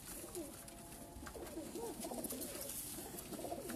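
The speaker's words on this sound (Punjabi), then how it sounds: "ਇਹ ਵੀ ਲੱਖਾ ਕਬੂਤਰ ਹੈ ਜੀ" A Lakha pigeon, a tournament-winning flying breed, coos in a series of soft, low, rolling calls close by against a light background hiss.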